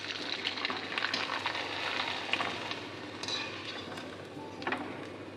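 Food sizzles steadily in hot oil in a home kitchen, with faint clinks of utensils against the pan, close and continuous without voices.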